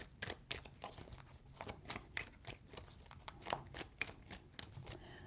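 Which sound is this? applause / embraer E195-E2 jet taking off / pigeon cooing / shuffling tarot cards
shuffling tarot cards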